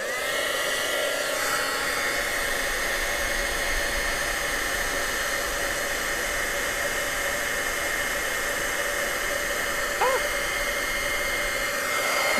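A heat tool blows steadily to melt clear embossing powder for a paper-craft mosaic, a constant loud whooshing drone with a faint whine, running unbroken and close for the whole stretch.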